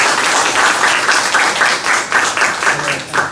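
A conference audience applauds at the close of a session: dense, continuous clapping from many hands, loud and close, holding steady for the whole stretch with no voices on top.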